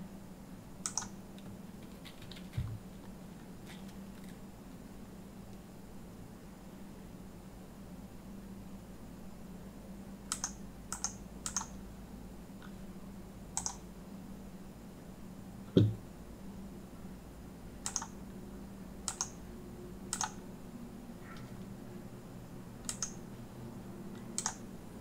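Computer keyboard keys pressed for AutoCAD shortcuts, a few sparse clicks spaced apart over a steady low background hum, with one slightly louder tap midway.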